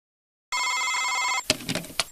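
A telephone rings once, loud and close, as a call is placed to computer technical support, and then gives way to brief clicks and line noise.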